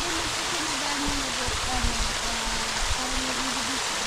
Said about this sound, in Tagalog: Bukal po yan, yung bukal. Hindi po na natigil kahit hindi na ulan.